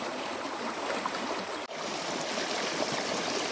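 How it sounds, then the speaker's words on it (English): Fast-flowing water in an Alabama river rushes steadily, a dense close-up roar of turbulent current with one brief cut partway through. "Look how fast the water's moving right here"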